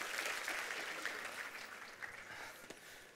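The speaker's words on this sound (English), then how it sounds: "Can we give this man a big round of applause?" Faint, steady applause from a congregation at a Christian gathering, a soft wash of clapping with a few sharper individual claps near the end.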